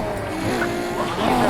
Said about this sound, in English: let's move on to the exhaust notes.